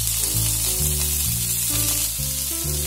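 Scallops sear in butter in a hot pan, giving a loud, steady sizzle that runs throughout beneath a melodic music backing.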